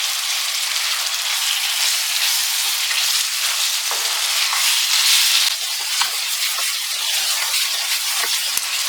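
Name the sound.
frying chicken with chopped tomatoes, being stirred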